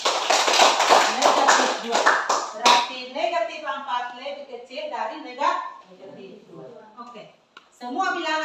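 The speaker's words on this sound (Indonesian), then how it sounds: "Tepukan, hebat sekali." Students in a classroom during a maths lesson give a short burst of rhythmic clapping, loud and close, which stops abruptly and gives way to a teacher and children talking.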